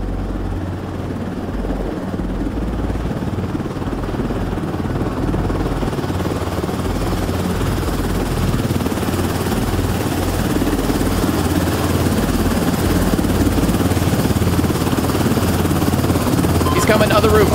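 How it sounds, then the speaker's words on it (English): Helicopter in the extraction shooter game Beautiful Light, a loud, constant rotor and engine roar that fills the whole stretch and grows slightly toward the end, with a voice talking faintly under it. "Get in the heli, go."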